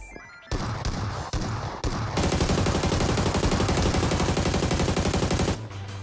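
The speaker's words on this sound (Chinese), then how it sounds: "腰射子弹太散了" Rapid hip-fire gunshots in a video game, a few separate bursts followed by a long sustained stream of fast automatic fire, loud and close, with no speech.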